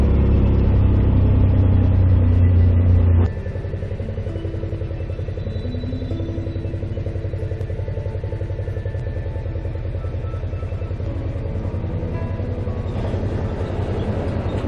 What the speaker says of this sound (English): here comes a vehicle from the other side